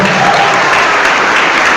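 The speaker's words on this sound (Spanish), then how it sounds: "Aplauso fuerte, que se oiga aplauso" Loud, dense clapping from a big audience, steady throughout with no pauses.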